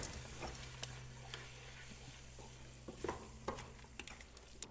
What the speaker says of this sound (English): So you just want to stir this all in,